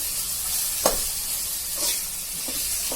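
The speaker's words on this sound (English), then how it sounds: "I will let this fry also for a little while" Mutton cutlets fry in a pan with a steady, close sizzle and hiss, broken by a few soft scraping stirs, with no voices.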